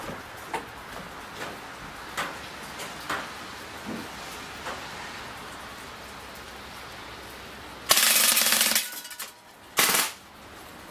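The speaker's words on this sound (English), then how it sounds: "So let's go back and unload the rest of this magazine." A ZMZ Tyrex PPA K 01 4.5 mm CO2 BB machine gun fires off the rest of its magazine: a few sharp scattered pops, then two loud dense bursts of rapid fire near the end, with no talking.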